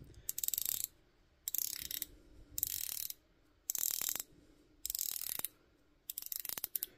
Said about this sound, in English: The bezel is a 120 click unidirectional bezel. I'll be quiet so you can hear that.